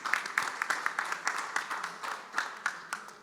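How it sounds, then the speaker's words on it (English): Audience clapping after a conference presentation at a peanut research meeting in Istanbul, a steady burst of applause from a moderate crowd in a hall, fairly even throughout without a clear peak. "Let's all give applause to his presentation."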